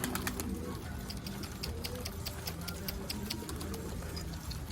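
Pigeons on a Turkish rooftop give soft repeated cooing with fluttery calls over a steady low rumble, continuous and fairly close throughout.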